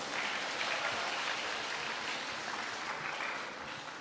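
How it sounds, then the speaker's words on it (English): Audience applause at a state-level inter-school spelling championship after a contestant misspells a word, a broad, steady wash of clapping filling the hall and slowly easing off toward the end. "Let's give her a big round of applause."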